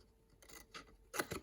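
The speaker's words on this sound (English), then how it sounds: "we're just going to take a little miter out of it, which is just cutting it at an angle." Scissors snipping angled miters into paper tabs for a bunny treat box, three quiet close cuts that grow louder, the last a sharp rasping snip, without speech.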